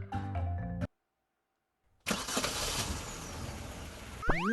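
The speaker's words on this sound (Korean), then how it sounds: "어째서 실내에서 엔진 소리가?" An engine heard indoors in the mobile game Trickcal: a musical passage cuts to silence, then a loud engine roars into a steady running rumble with a rising whine at the end, no speech.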